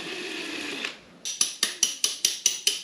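Impact wrench loosening a stubborn front wheel bolt on a Honda CRF110F dirt bike: a brief hum, a short pause, then about eight sharp, evenly spaced metallic hammering bursts, close and loud.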